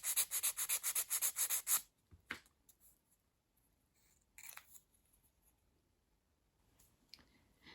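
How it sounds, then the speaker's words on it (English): Small wooden dolls house pieces being sanded by hand, a quick series of about a dozen rhythmic rasping strokes, close and then falling quiet, followed by a few faint scrapes and taps. "prepare your pieces by giving them all a gentle sand"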